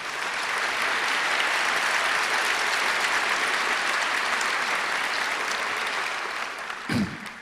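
Steady, full audience applause at a 2003 debate on Iraq and the War on Terror, sustained clapping that fills about six seconds, then fades as a brief voice breaks in near the end.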